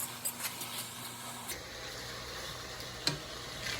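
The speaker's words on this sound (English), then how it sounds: "what I'm doing now is just breaking up the sausage to make sure that it's all in really good" Sausage is broken up in sauce in a pan with a utensil, giving soft scraping, stirring and a light sizzle, with a few sharp taps and clicks scattered through.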